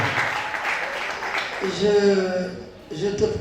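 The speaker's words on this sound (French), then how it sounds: "On peut l'applaudir, s'il vous plaît." Audience applause for a twelve-year-old singer at a televised singing competition, a brief patter of clapping that gives way to a voice speaking and soft musical tones.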